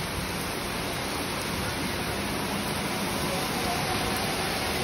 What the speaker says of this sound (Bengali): সেই রমজানের আগে একটু হালকা বৃষ্টি হচ্ছে।